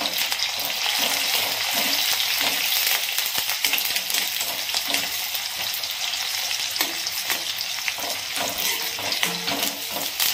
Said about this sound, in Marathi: 10-12 कढीपत्त्याची पानं आहेत ते पानं टाकून घेऊयात आणि कांदा लाल होईपर्यंत परतून घेऊयात